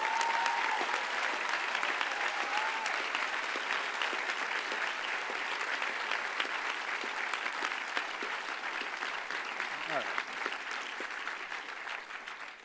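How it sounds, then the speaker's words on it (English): Sustained applause from a graduation crowd honouring parents and families, steady and dense clapping filling the whole stretch and tapering slightly near the end, with no voices over it. "a round of applause for the parents and family."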